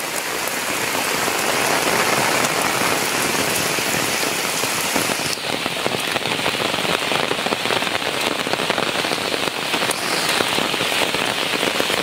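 A torrential rainstorm pours down in a thick, unbroken roar, droplets pattering and crackling on nearby surfaces at close range, constant in loudness throughout and with nobody speaking.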